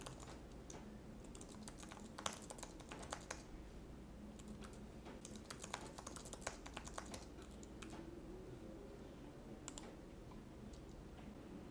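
Username and password being typed on a computer keyboard produce bursts of quick, light key clicks and taps, close and fairly faint, with short pauses between runs and no voice.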